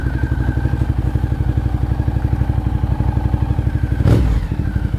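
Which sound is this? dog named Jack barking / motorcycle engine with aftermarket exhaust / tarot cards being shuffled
motorcycle engine with aftermarket exhaust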